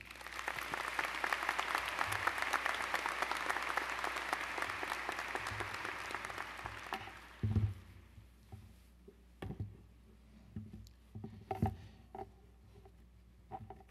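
A university commencement audience breaks into loud, sustained applause for the incoming speaker. It fades out after about seven seconds, leaving a quiet hall with a few scattered knocks and shuffles.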